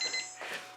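Electronic timer beeping during an acrylic fluid-art painting session, a few quick high-pitched beeps followed by a fading tone, short and fairly faint.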